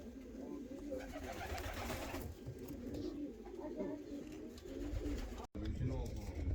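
Pigeons coo softly in low, rolling murmurs, several birds together, with faint rustling and a brief dropout near the end.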